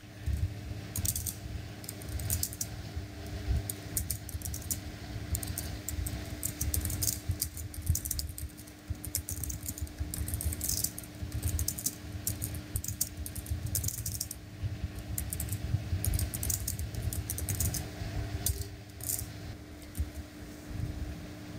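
Steady, continuous typing on a computer keyboard, a dense stream of close, sharp key clicks with a low background hum and no voices, lasting throughout.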